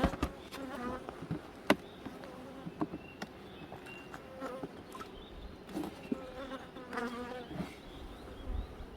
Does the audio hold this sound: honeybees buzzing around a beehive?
yes